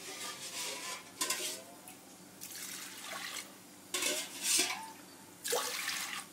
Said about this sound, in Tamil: இப்போ இதில் நான் தண்ணி சேர்த்துக்கேன்.